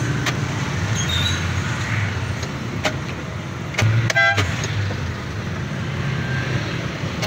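Street traffic near a hospital in Tacloban City, Philippines, with a steady wash of passing cars and engines and a few short car horn toots, one a quick burst of repeated honks, heard from within the flow of traffic.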